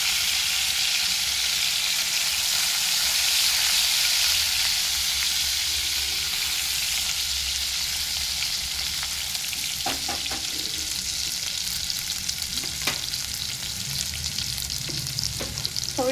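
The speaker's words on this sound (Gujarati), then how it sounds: "લસણની કળી થોડીક બ્રાઉન થાય એટલે આપણે એમાં મરચાં અને આદુની પેસ્ટ એડ કરી દઈશું." Garlic cloves with chili and ginger paste frying in a pan, a continuous loud sizzle with a few stirring clicks and scrapes toward the end.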